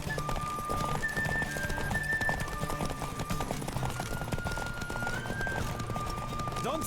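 Galloping horse hooves in a horse race in the video game The Witcher 3, a steady rapid clip-clop rhythm under game music, fairly loud and continuous.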